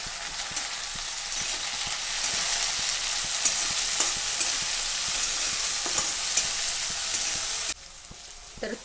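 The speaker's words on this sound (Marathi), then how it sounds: "तर ह्यात टाकून घेते मी टमाटर." Tomatoes hitting a pan of reddened onions and garlic for methi bhaji set off a loud, steady, close sizzle with a few light stirring clicks. The frying drops sharply near the end, and no voices are heard.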